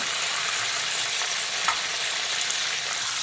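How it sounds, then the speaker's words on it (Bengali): Chicken pieces frying in hot oil, a dense continuous sizzle with faint stirring ticks, close and steady with no talk. "আর বাকি মাংসের পিসগুলোকেও একইভাবে আমি ভেজে"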